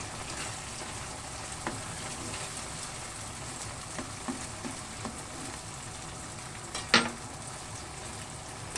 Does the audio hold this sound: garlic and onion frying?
yes